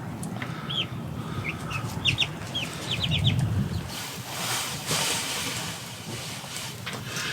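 A small silkie chicken clucks and makes short chirpy calls in quick bursts through the first half, fairly close, followed by a stretch of rustling and low background noise.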